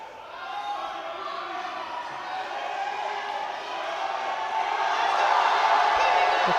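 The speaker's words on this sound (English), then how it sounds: "The crowd roars" Crowd at a European classic powerlifting championship roaring during a lift, a broad sustained wash of cheering that swells louder toward the end.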